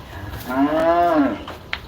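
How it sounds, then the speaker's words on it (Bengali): A cow at the Gabtoli cattle market gives one long, loud, close moo that swells and fades over about a second, with a faint market murmur behind it. "হাম্বা"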